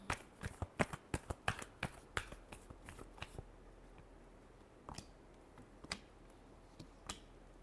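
Tarot cards being shuffled by hand for a reading; a quick run of crisp riffling clicks and slaps, close and quiet, followed by a few sparse isolated card taps.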